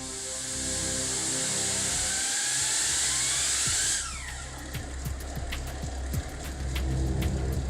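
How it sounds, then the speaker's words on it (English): A huge diesel engine on a test stand starts up: a loud rising starter whine gives way to a steady, heavy running drone with a rapid, rhythmic firing pulse. "The mega diesel engine springs to life for the first time."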